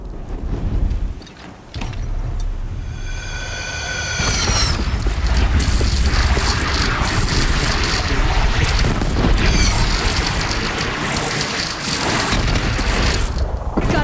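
Heavy booming cannon fire and explosions in the video game Horizon Zero Dawn, a dense continuous barrage of loud blasts and gunfire-like bursts, with a brief lull near the start and shouted voices in the mix.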